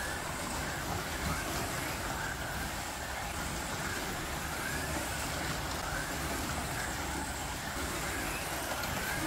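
Carrera Digital slot cars race around a track as a BMW moves past into second place, giving a continuous loud electric whir and hiss of motors that never lets up.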